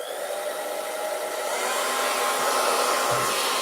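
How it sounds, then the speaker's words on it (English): A hair dryer blows steadily at close range, a loud continuous whooshing hum that holds level throughout. "I just have to wait for the hairdryer to heat up"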